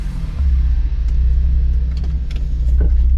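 A Ford Explorer ST with a tune adding launch control and anti-lag, driving on the road: a loud, deep engine rumble steadily building from inside, with faint clicks and ticks above it.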